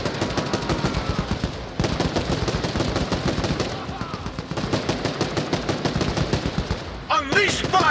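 Dense, continuous automatic gunfire from the video game Crossfire: Legion, rapid rattling bursts over a steady battle din, with a short break near the two-second mark and a sharper burst of effects near the end.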